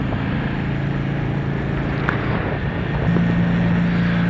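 A Royal Enfield Meteor 350 motorcycle engine idles steadily with a smooth, even hum, rising slightly in pitch near the end; no talking.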